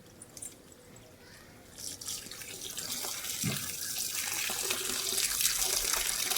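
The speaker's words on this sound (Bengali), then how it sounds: "জবা গাছে জল দাও, জবা গাছে।" Steady running water from a tap or hose while a hibiscus plant is watered outdoors on a summer evening, a continuous hiss that builds and stays fairly loud, with faint voices in the background.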